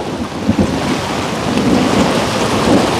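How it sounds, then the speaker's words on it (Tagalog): Thunder rumbling during heavy rain on a mountainside, deep rolling booms over a continuous dense patter of rainfall, loud and close with no talking. "Ayan, kumulog na po mga kabayan."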